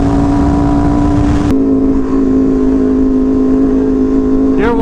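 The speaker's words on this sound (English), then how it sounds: "You're hearing my awesome exhaust." A motorcycle engine with a loud aftermarket exhaust drones loudly and steadily up close in traffic, its exhaust note shifting slightly partway through, with a brief rising sweep near the end.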